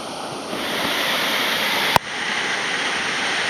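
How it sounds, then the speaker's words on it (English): A waterfall in Kanchanaburi, Thailand roars from directly underneath, a dense, steady rush of pounding water with one sharp knock partway through. "I'm officially inside of the waterfall, underneath of it."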